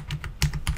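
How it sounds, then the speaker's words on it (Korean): A few quick keystrokes sound on a computer keyboard, close and fairly crisp, with two distinct clicks standing out in a short burst. "연습을 해야 되니까 요거 그대로 타이핑을 해봅시다"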